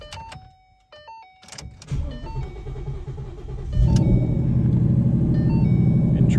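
A Ford Shelby GT500 Mustang starts up amid chimes and door sounds, then its engine settles into a loud, deep, steady rumble close by, with no voices.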